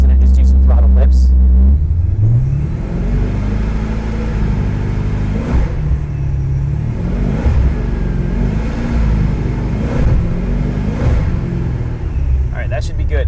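Supercharged LS V8 in a Porsche 944 on flex fuel, idling then blipped to around 3,000 rpm several times, loud close engine roar with rising and falling revs and a steady rumble between.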